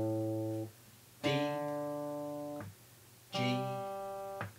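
A guitar sounds two plucked open strings in tune, one after the other. Each note is clear and sustained, close and moderately loud, ringing out and slowly decaying with no talking.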